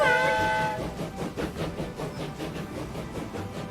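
A train leaving its depot in a railway-building video game, opening with a tonal whistle or horn, then a rhythmic rumble of wheels and cars rolling along steadily, no talking.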